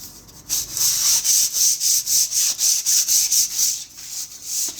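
Rhythmic back-and-forth hand sanding on a plaster wall, about a dozen steady gritty strokes, close and loud with no talking.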